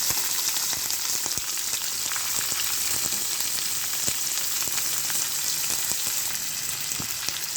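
Green chillies and onion frying in a pan for a North Karnataka dish, a loud continuous sizzle with scattered small pops and crackles.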